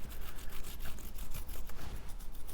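A toothbrush scrubs lube into a motorcycle chain in quick, rhythmic bristly strokes, a soft close-up rasping that keeps going without pause and with no voices.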